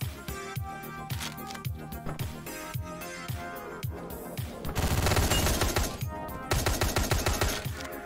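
Rapid gunfire in the top-down action game Hotline Miami, sharp repeated shots in quick rhythmic bursts over a pulsing electronic soundtrack, loud and continuous, swelling into denser volleys midway.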